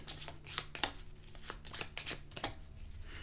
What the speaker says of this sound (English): you shuffle all of the state cards together